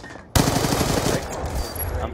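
Rapid automatic gunfire from a gun in a video game bursts in suddenly and continues as a loud, close rattling volley, with faint talk before it starts.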